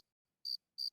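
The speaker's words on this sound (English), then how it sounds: "do you hear the proverbial crickets chirping?" Two short, high-pitched cricket chirps, evenly spaced against near silence, faint and clear.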